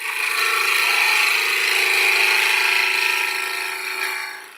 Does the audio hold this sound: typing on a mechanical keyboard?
no